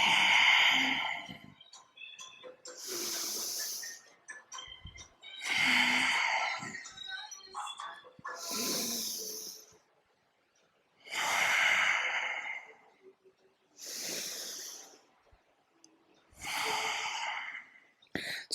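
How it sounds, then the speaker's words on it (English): Slow, deep breaths during a back-body fitness workout: about seven loud, airy inhale-and-exhale sighs close to the microphone, evenly spaced with short quiet gaps between them. "We're going to kind of speed up the pace of breath."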